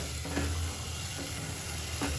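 A spoon stirs kadhi in a pot, giving a soft, continuous bubbling sizzle with a few faint scraping strokes at a steady pace, and no voices.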